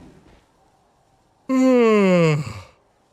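A voice imitates the drawn-out, yawn-like cry of a starter Pokémon in Pokémon Violet, one loud falling groan lasting about a second after a quiet pause.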